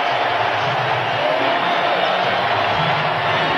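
Basketball arena crowd at a 1997 NBA playoff game, Hawks Western Conference semifinal Game 5, roaring steadily after a Dennis Rodman three-pointer: a dense, continuous wash of cheering and whooping with no gaps, loud throughout.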